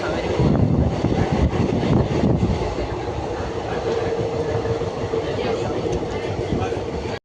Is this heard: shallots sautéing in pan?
no